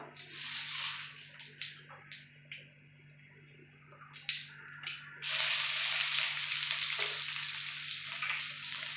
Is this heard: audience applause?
no